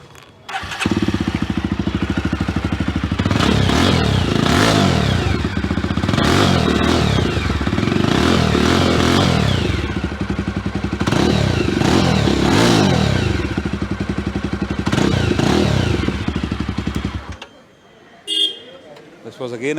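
A Jawa motorcycle fitted with a custom exhaust idles loud and close, giving a deep, thumping rumble with several sharp throttle blips, then cuts off abruptly near the end.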